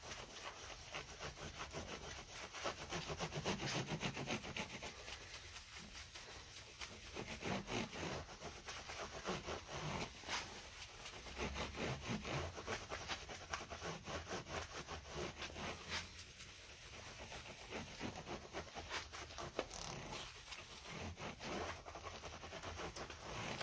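Hands rub a treatment into the wooden neck of a bass guitar with its strings off, making a soft continuous scratching and rubbing that rises and falls in strokes, faint and close, with no talking.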